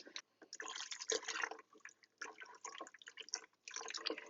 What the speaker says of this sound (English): let's stir the rest of this water in there